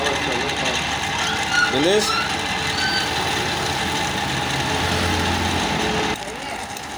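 A 50cc motorized kart engine runs at a high, buzzing, steady pitch, loud and close, cutting off near the end while someone speaks briefly over it.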